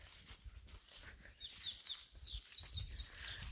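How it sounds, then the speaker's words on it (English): Soft, high chirps and whistles of several birds in a wild meadow, scattered and fairly distant, over a low background rumble. "The soft whistle of birds."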